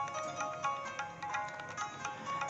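Telephone ringing on a radio phone-in show, a steady electronic ring tone sounding continuously in a pulsing pattern, moderately loud with no talk over it.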